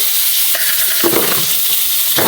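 Pointed gourd frying in a pan with a little water, a loud continuous sizzle broken by a few stirring scrapes, close up with no voices.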